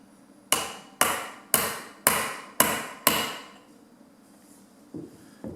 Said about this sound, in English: I can push that washer back down and also tap it.